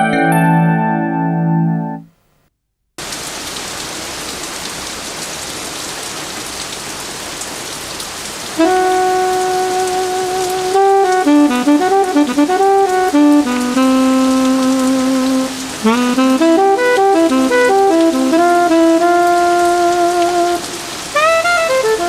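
Heavy rain pours steadily outside, loud and close throughout, with a brief silence near the start, while a tonal melody plays over the downpour.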